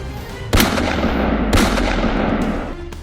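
Two sharp gunshots crack into the ground in a tense interrogation scene from a Hindi short film, each a loud broadband burst about a second apart over a steady rumbling background, with no talk.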